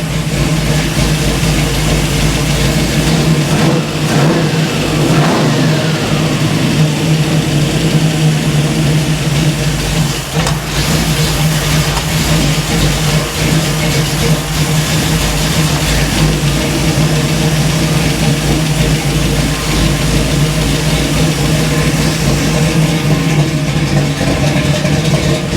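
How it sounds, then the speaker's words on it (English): A Chevrolet Camaro engine idles loudly through its mufflers with a deep, rumbling exhaust, blipping into revs now and then, steady and close for the whole stretch. "Those mufflers sound pretty good. This thing sounds pretty rowdy."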